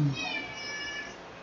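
Pet cat Roxy gives a single drawn-out meow, close and fairly quiet, lasting about a second and heard alone.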